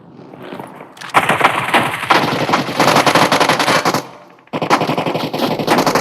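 Rapid automatic gunfire from a squad fighting in PUBG Mobile, loud close bursts of dense cracking shots in several long volleys separated by short pauses, with no talking.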